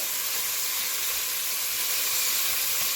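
Beef searing in hot oil for a lentil soup, a steady loud sizzle and hiss that holds evenly throughout with no voices over it.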